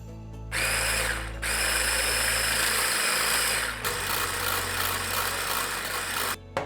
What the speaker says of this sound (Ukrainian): Збиваємо за допомогою погружного блендера.